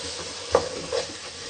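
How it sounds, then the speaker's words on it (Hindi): Turnip sabzi stirred and fried in a pan, with a soft steady sizzle and two brief louder scrapes of stirring against the pan, close and alone. "इसको हम अच्छे तरीके से भूनेंगे।"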